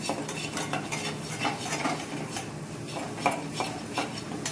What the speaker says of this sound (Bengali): এবার ভালো করে মিক্স করে নেবো আমি ময়দা আর বাটারটা